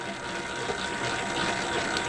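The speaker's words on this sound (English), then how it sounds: "So I'm just adding a little bit more water to this mix," Water pours into a bowl of focaccia dough mix, a steady close gushing trickle that runs continuously and evenly without any talk over it.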